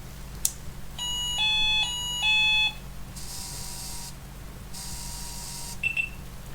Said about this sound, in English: does it make 2 pips after startup like this?